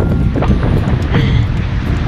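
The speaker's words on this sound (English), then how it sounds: "It's kind of windy" Strong wind at the Tampa Riverwalk buffets and rumbles across the microphone, a loud continuous roar with faint river water sounds underneath.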